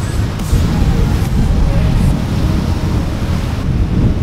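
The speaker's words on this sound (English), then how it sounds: "Look at these waves." Rough ocean surf at a beach stirred by an approaching tropical disturbance, a constant heavy roar of breaking waves with strong wind buffeting the microphone, loud and close.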